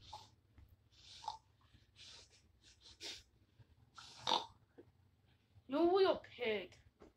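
A person makes snorting, grunting pig noises, imitating a pig's oink, with a few breathy bursts and voiced grunts near the end over a low background hum.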